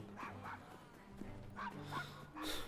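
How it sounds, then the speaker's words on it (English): A dog barks repeatedly in Assassin's Creed Syndicate, in short yipping bursts of moderate loudness spaced irregularly over quiet game ambience. "Follow Desmond's barks to find the fucking dog napper"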